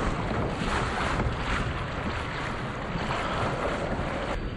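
A small boat driven by a Water Snake electric motor launches through a heavy swell off Shoreham, heard as steady roaring wind buffeting and rushing water with no voices.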